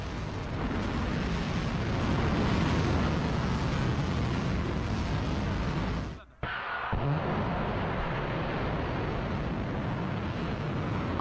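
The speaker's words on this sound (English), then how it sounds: "Iranian media released the video set to show the launch of missiles against Israel" Iranian missiles launching against Israel make a continuous, loud rushing roar, broken by a brief sharp drop near the middle before the roar resumes at full strength.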